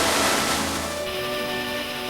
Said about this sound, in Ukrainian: Джулінський водоспад, висота близько 16 метрів